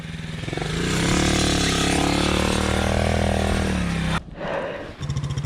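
Kawasaki enduro pit bike engine revving loudly and steadily for about four seconds during an enduro lesson on muddy ground, then cutting briefly before picking up again at a lower, rougher pitch.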